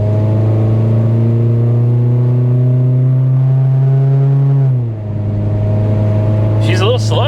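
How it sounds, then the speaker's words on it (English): A Ford Probe accelerates on the road, its engine droning loud and steady with rising pitch before easing off, heard close from inside the car with brief noise near the end. "I'm not flooring it, but there's 50."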